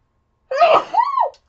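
A single loud, close human sneeze, a sharp burst followed by a brief voiced tail, clear against silence.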